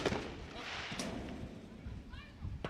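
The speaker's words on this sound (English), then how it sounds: "What TK you're hearing in the background is some fireworks happening in Stone Harbor" Fireworks over the beach at Stone Harbor go off in the background, giving a few distant, muffled booms and cracks under a voice.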